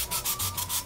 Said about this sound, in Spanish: con nuestra lima de uñas también se puede que quede bien redondeadito nuestra cabeza